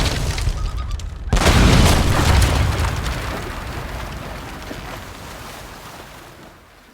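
Naval battle from the Age of Empires 3 game, with a heavy cannon boom at about one second followed by a long rumbling roar of gunfire and sea noise that slowly fades.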